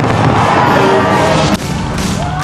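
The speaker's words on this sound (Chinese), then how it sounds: "超过100000枚烟火加入闪电和行雷等特别的效果，在悉尼大桥一带发放，照亮上空" New Year fireworks over Sydney Harbour Bridge, more than 100,000 shells with lightning and thunder effects, make a dense, loud wash of crackling and booming mixed with crowd noise.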